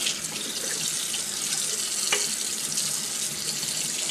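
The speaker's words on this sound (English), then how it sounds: "The first step is to rinse the bacalao with cold water using a colander." Cold tap water runs over salted codfish in a colander at a kitchen sink, giving a steady close splashing hiss with a brief heavier spatter partway through and no one speaking.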